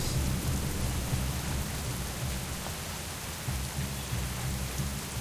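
Steady rain falls over Tirisfall Glades in World of Warcraft, a soft, even hiss of droplets with a low rumbling undertone that holds constant throughout, fairly quiet and without voices.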